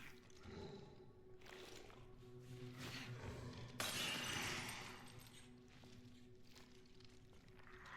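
A glass bottle shatters in the video game Resident Evil Requiem. A single, fairly faint crash breaks through a low, hissing game ambience, with no talking.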